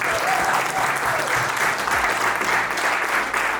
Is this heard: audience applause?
yes